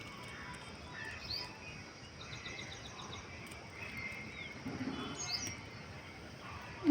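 Faint, distant birds, including parrots and sparrows, chirp in scattered short calls over a soft, steady outdoor hiss in a terrace garden after rain.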